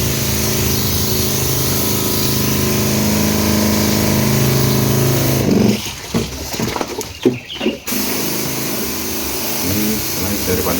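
Motorized pump sprayer misting a grapevine against fungus, a steady loud droning hiss that breaks into short bursts and pauses midway before resuming its continuous whir, with a voice talking over it.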